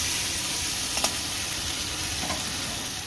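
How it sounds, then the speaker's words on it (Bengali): Spices with salt and turmeric fry in a pan with a dense, steady sizzle and hiss and a few soft stirring scrapes, close and continuous. "সমস্ত মশলা দিয়ে লবণ দিয়ে খুব ভালো করে কষিয়ে নেব"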